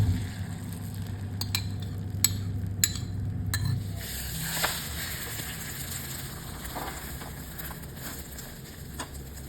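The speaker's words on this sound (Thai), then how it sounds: "พอกระทะเริ่มร้อนนะคะ เราก็จะใส่ ไข่ลงไปได้เลย" Oil sizzles steadily in a hot pan with a brief louder crackle as an egg is added, plus a few light clinks of utensils against metal.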